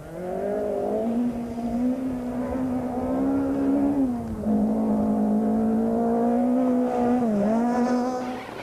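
A dual-fuel Volkswagen Polo rally car engine runs rough, holding a loud, steady droning note with a couple of brief dips in pitch as it labours, close and continuous throughout.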